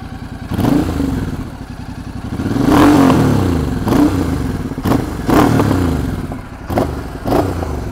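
A Royal Enfield Super Meteor 650 fitted with a new aftermarket exhaust roars loudly up close, its deep engine note rising and falling through repeated revs and throttle blips for several seconds.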